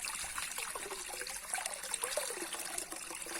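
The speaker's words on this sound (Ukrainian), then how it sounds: "Холодна, класна така вода. дуже хороша вода." Cold water from a forest stream trickles and splashes steadily, a close, continuous gurgling with small bright splashes throughout.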